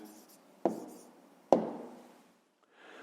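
A pen writes down the answer to a fifth-grade math exercise, making two short, crisp scratching strokes about a second apart over quiet room tone.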